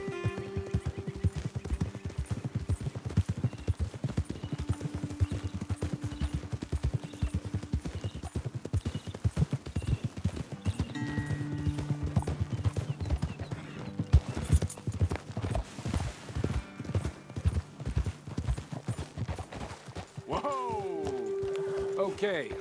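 Horse hooves clip-clop steadily in Red Dead Redemption 2 as riders travel up a trail, with occasional whinnies and game music underneath, ending in a rising sound as the ride stops.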